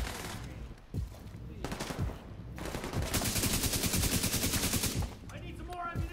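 Rapid automatic gunfire bursts from a firefight in the video game Division 2, with short separated shots early and then a long sustained stretch of fast, rattling fire, fairly quiet in the mix.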